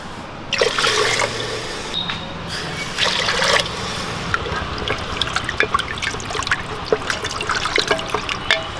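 Water pours into a pot of rasam that already holds tamarind water and turmeric, giving a close, steady trickle with scattered drips and splashes, and no one speaking.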